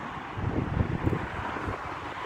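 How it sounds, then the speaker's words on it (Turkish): Gusty wind buffets the microphone with a rumbling, fluttering roar that rises and falls, with no voices. "Hava biraz serin. Biraz rüzgarlı."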